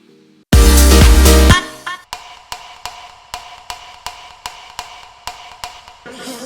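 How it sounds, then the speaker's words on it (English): Dry wooden hit samples in a music production tap out a rhythmic pattern matching the piano part, after a brief loud chordal burst opens the passage. "I reintroduced these wood hits as well, which are doing the exact same pattern as the piano."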